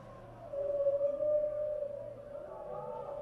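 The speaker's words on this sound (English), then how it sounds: "Oh, whale sounds." Whale song played from a device in a TV drama scene, a long, mournful tonal moan that rises and sustains before fading into lower drawn-out calls, moderately loud against a quiet room.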